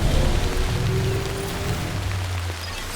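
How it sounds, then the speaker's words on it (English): Rain falling in the video game Death Stranding, a steady broadband hiss of drops on surfaces with low rumbling ambience underneath, continuous and fairly loud throughout, with no voices. "Raining already."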